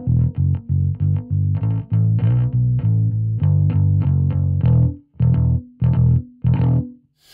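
Bass guitar played through a Two notes Genome into a Mesa Boogie Standard Powerhouse 1000 cabinet with a 1x15 and 4x10, giving a run of loud, evenly repeated distorted notes with short gaps toward the end.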